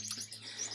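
Lizard canary chicks chirp briefly and faintly while being fed, as a short burst of high, thin calls.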